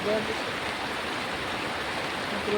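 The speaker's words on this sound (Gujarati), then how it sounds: "અમારે વરસાદ હાલ જબરદસ્ત પડેલો છે" Heavy monsoon rain in Banaskantha falls as a steady, dense broadband hiss with no breaks, a constant wash of water close by.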